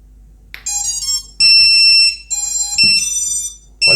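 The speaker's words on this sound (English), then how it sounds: "here comes a loud beep" Loud, shrill electronic beeping from a TBS Unify Pro32 HV video transmitter in a series of sustained tones with brief gaps, piercing and close, with no talking.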